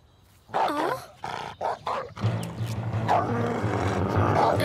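A dog lets out several loud, rough barks in a quick burst, then settles into a low, sustained growl.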